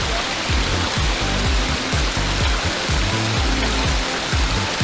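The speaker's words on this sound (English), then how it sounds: "This is my double pondless waterfall project." A backyard double pondless waterfall in California splashes steadily into its plunge pool, a close, continuous, full rushing wash of water with no voices.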